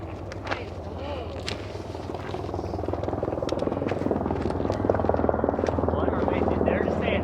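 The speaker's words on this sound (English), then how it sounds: "It's like a 3 ship of helicopters coming in." Three helicopters flying in formation over a Pacific Crest Trail hiking spot, a continuous rotor thump and engine drone that grows steadily louder as they approach, with voices talking over it.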